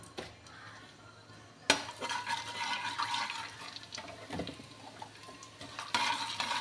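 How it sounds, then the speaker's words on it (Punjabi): Steady crackling sizzle of cumin seeds frying in hot oil in a kadai, with a sharp clatter partway through and occasional utensil scrapes; no voices. "ਕੜਾਹੀ ਦੇ ਵਿੱਚ ਤੇਲ ਪਾ ਲਿਆ ਜੀ ਗਰਮ ਹੋ ਗਿਆ ਇੱਕ ਚਮਚ ਆਪਾਂ ਜੀਰੇ ਦਾ ਪਾ ਰਹੇ ਹਾਂ"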